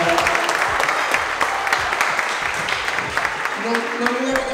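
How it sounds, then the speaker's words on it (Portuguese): A crowd at a BMW E30 car meet in Portugal applauds in a dense, sustained burst of clapping, loud and close throughout, with a voice briefly audible near the end. "eles merecem uma enorme salva de palmas para todos nós"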